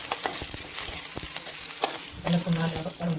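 Oil sizzles and crackles steadily in a kadai as coconut and garlic are fried for a brinjal curry, with stirring scrapes and a louder burst of sizzling near the end, close and with no talk.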